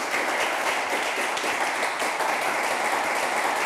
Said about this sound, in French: Merci d'applaudir pour nos candidats.